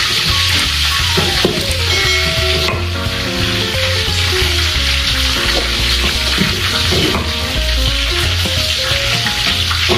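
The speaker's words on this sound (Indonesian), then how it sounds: "Yang digoreng ternyata cuman tomat sama cabenya aja." Tomatoes and chilies fry in a pan with a loud, steady sizzle and crackle that continues throughout, close by, with occasional stirring and clinks of a utensil.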